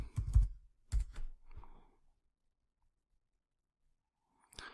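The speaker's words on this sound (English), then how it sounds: "we're going to just type in this box" A burst of typing on a computer keyboard, several quick clusters of close key clicks followed by a pause and one last short tap.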